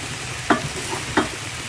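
Greens cooking in a very hot, large pot, a constant sizzling hiss with two sharp scrapes of stirring about half a second apart, close up and without speech.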